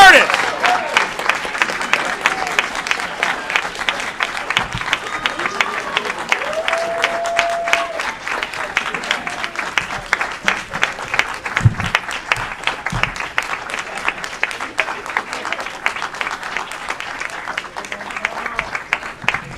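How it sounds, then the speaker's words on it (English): Audience at a city council meeting in Aurora claps continuously to welcome a volunteer of the year, a long dense stream of close individual claps with occasional voices underneath. "Keep that applause going."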